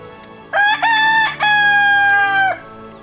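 A backyard chicken crows close and loud, a long drawn-out call with a couple of short breaks, standing out alone over faint background noise.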